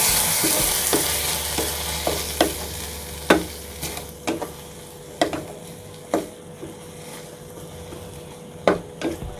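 Canned fish and egg stir-fry in a hot pan with a steady, loud sizzle, while a spatula scrapes and taps the pan in an irregular rhythm of sharp strokes.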